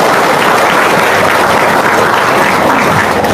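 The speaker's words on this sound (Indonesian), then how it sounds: "Wow, tepuk tangan dong." An audience at a seminar gives loud, dense, continuous applause, a steady wash of many hands clapping with no pauses.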